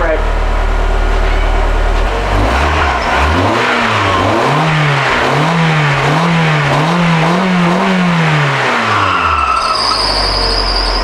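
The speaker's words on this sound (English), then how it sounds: "Then give it a little rev." A girlfriend's Mazda MX-5 Miata engine revs up from idle, its pitch swelling and wavering through several rising and falling surges before settling back down, close and loud.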